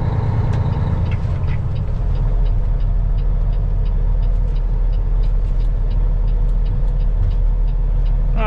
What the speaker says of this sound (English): Now I just gotta wait for this traffic.